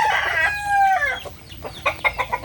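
A fighting cock crows once with a drawn-out, strained call, followed by several short clucks, close by on a farm where the roosters are being sold.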